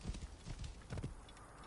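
Horse hooves clip-clop in a steady, fairly close rhythm of several beats in Assassin's Creed Origins, loud at first and then easing off, with no talking over them.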